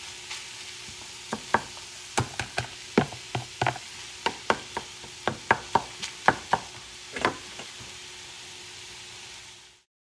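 Lamb and cauliflower rice get stirred in a warm pan, with a soft sizzle underneath and a series of sharp spoon scrapes and taps against the pan at an irregular pace.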